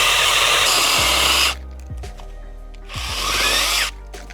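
A StartPro SBS 21 B cordless mini chainsaw whines loudly as it runs, drops off, then revs up again in a second burst while cutting small garden branches, close up and with no talking.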